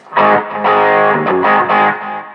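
Electric guitar played through a Quilter SuperBlock UK amp with an EQ pedal, drive set low with a touch of mids, ringing out in a few loud, distorted strummed chords that sustain and fade.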